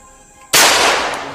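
After a quiet moment, a single sharp pistol shot from a video game bursts out loudly, its blast ringing and slowly fading.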